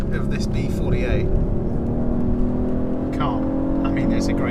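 The B48 engine of a 2021 BMW 420i coupe pulls hard from inside the cabin, a loud steady drone under someone talking throughout.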